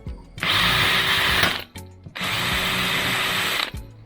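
A power drill bores holes through a metal box gutter in two loud, close, sustained bursts with a brief pause between them.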